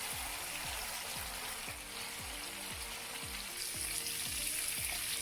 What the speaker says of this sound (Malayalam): അതുകൊണ്ട് എന്തായാലും ഫുൾ ഫ്ലെയിമിൽ പൊരിച്ചെടുക്കാൻ മതി.